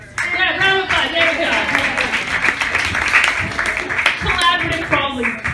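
Applause and scattered clapping from a comedy festival audience, mixed with talking and cheering voices over several seconds, fairly close and lively.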